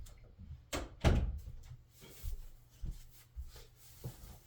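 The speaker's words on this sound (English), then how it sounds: "Hold on, let me close the door." An indoor room door is pushed closed with a soft thud and a few light knocks and shuffles around it, quiet and close by.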